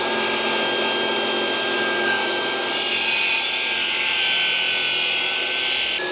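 Power saw cutting faux stone siding at a miter, a steady loud high-pitched whine running throughout with a slight rise in intensity midway, close and alone with no talk.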